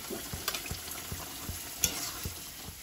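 Pointed gourd and boiled potatoes fry with chilli powder and turmeric in a pan, a spatula scraping and knocking in an irregular rhythm over a soft steady sizzle, close and moderately quiet.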